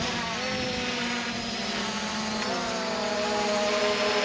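A HolyStone HS700E drone flies in follow-me mode, its rotors giving a steady, loud, high-pitched buzzing whine that holds constant throughout, with a slight pitch shift partway through.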